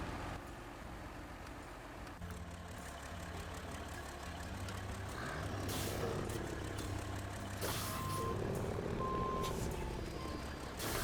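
Two trucks driving in the video game SnowRunner, a steady rumbling engine drone that grows louder midway, with intermittent reversing-style beeps and hissing bursts, no talk.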